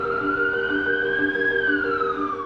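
A wailing emergency siren, as on an ambulance arriving at York's A&E department, sweeps steadily and loudly through the whole stretch with a rising and falling pitch, no talk over it.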